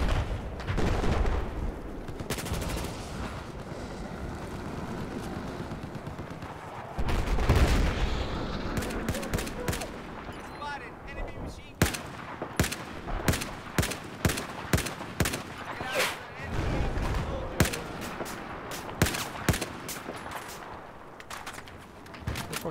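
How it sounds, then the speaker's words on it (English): Sharp, close gunshots crack in an irregular string through the second half of a shooter video game match, after a dense stretch of rumbling gunfire and explosions, with a little talk mixed in. "Is that guy shooting at me and missing?"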